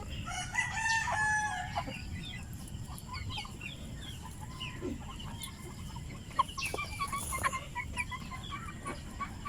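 Free range chickens cluck in a farmyard while a rooster crows, with a steady outdoor background hum; the crowing stands out early and scattered clucks follow throughout.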